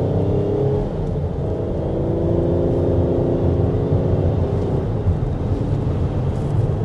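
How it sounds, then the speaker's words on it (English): An engine hums and rises smoothly in pitch as a 2024 Chrysler Pacifica Pinnacle minivan accelerates through its automatic transmission, heard from inside the cabin, with steady road noise and no harsh shifts. "As you could probably tell, accelerating, this is a pretty smooth transmission."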